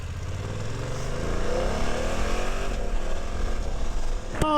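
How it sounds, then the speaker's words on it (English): A 2024 BMW F 900 GS motorcycle engine revs up and accelerates, its pitch sweeping upward through the gears as a close, steady drone, ending with a sharp click. "now let's see how this new GS frame is doing with this new GS motor"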